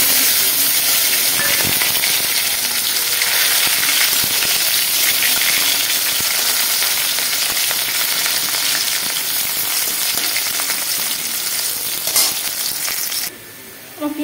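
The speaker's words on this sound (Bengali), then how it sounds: "আমার পেঁয়াজটা ভাজা হয়ে গেছে" Chopped onion fries in hot oil in a wok with a loud, dense, close sizzling hiss that holds steady throughout and then cuts off abruptly near the end.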